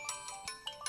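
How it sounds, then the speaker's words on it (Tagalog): Cellphone ringtone chiming in a repeating pattern of bright tonal bursts, about five short pulses in one second, clear and fairly close with no talk over it. "Itay pa'y ngagriring ti cellphone ni Limuel."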